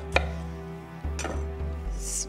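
A kitchen knife slicing a peeled butternut squash in half on a cutting board, giving a sharp chop followed by a few dull thuds and scraping cuts as the blade works through the hard flesh, close and fairly quiet.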